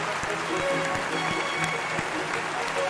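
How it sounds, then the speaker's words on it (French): Applause from a French live charity stream audience at ZEvent 2022, a dense steady patter of clapping with faint voices and background sounds mixed in throughout. "Vous pouvez vous applaudir."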